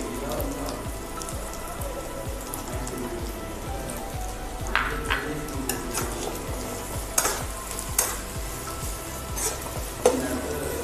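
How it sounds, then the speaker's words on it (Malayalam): Curry leaves dropped into an egg roast frying in a pan set off a lively crackling sizzle, broken by sharp spatula scrapes and stirring knocks at close range. "നമുക്കിതിലോട്ട് കുറച്ച് കരിവേപ്പില ഒന്ന് ഇട്ട് കൊടുക്കാം."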